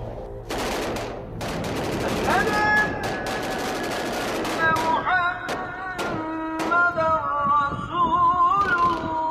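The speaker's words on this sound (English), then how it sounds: "what started as sporadic gunfire quickly became overwhelming from all directions" Dense gunfire with sporadic shots and rapid automatic bursts erupting from several directions across a city, continuous and loud throughout with sharp cracks and thuds layered over a rumbling backdrop and tonal sound-effect elements.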